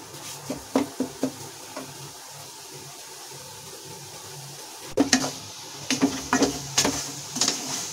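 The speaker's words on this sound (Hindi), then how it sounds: "और इस आटे को मैं अच्छे से भून लूंगी।" Wheat flour roasting in a pan with a little ghee brings clustered knocks and scrapes of a spoon against the metal, with a quieter lull in between and faint frying underneath.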